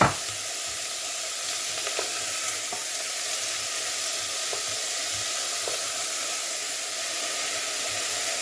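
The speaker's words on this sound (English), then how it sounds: "Now what you're going to do is add in your veg. It's all in one go. And we'll give that a quick stir." Vegetables for minestrone sizzle steadily in a pot, a continuous close hiss broken by a few soft clinks and scrapes of stirring, with no talking.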